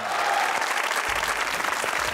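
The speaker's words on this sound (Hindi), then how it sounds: "आपकी भरपूर तालियों में मेरी मेहमान है मदिया इमाम" A studio audience on a comedy talk show breaks into steady applause to welcome a TV actress guest, bright continuous clapping that starts at once and carries on evenly for a couple of seconds.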